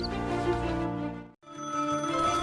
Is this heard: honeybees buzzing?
no